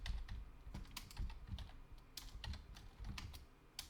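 Rapid, uneven keystrokes clatter on a computer keyboard, with close, crisp clicks and thumps following one another in quick bursts and no voices.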